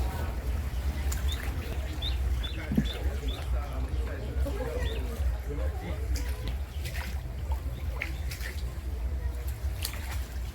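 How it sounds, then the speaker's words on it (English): Birds sing in riverside trees in Hoi An during a basket boat ride: faint, repeated high chirps over low water and engine rumble, with soft splashes now and then. "you can only hear the gentle splash of oars in the water and birds singing in the trees"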